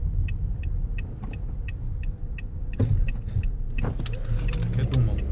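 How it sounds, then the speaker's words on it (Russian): A car is parked on a busy street in Mirny, Yakutia, its engine a steady low rumble with a regular ticking and a few clicks and shifts heard from inside the cabin. "Сейчас припаркуемся здесь."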